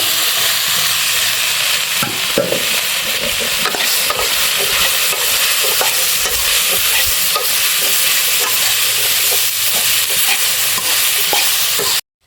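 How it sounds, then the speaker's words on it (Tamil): Chopped bottle gourd stirred in a hot frying pan for chutney: a loud, steady sizzle runs throughout, overlaid with frequent scraping and tapping strokes of a spatula, then cuts off abruptly at the end. "அடுத்து கட் பண்ணி வச்சுக்கிற இந்த சொரக்காயை கொட்டிடலாம்"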